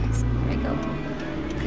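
Steady low engine rumble and road noise from inside a car driving along a busy road near a cruise ship terminal, constant and close, with faint hiss and a voice speaking over it.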